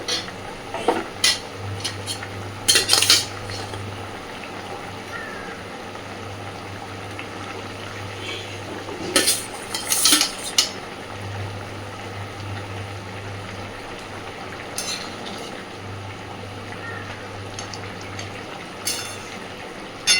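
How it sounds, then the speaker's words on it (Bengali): Fried bhola fish pieces being stirred into a simmering potato curry in a pan, with a steady low bubbling hum and scattered scraping, clinking utensil strokes against the pan. "খুব ভালোভাবে সব কিছুকে মিশিয়ে দেব।"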